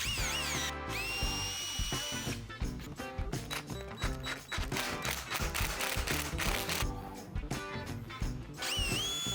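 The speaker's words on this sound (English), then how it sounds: "Then I'm going to drill some holes in here, put it on the skull plate" A power drill bores holes in a deer antler skull plate, its motor whining in bursts that spin up, bite and release with a choppy, uneven rhythm, close and moderately loud.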